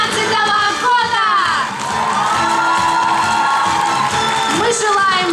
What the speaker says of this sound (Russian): Аплодисменты выпускникам